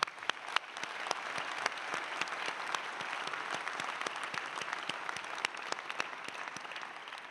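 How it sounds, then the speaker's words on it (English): A large audience applauds steadily at a dental school convocation for the class of 2024, a dense sustained clatter of many hands with sharper individual claps standing out, and no speech. "I think it is fitting we applaud their hard work and dedication."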